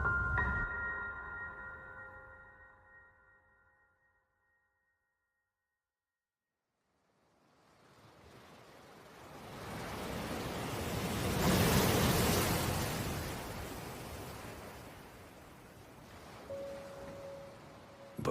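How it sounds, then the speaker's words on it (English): Ocean waves in a dramatized seaside scene swell into a broad rushing wash, building from silence to a loud crest and then easing off into a softer lingering hiss. "Too meager to slow even the gentlest of waves."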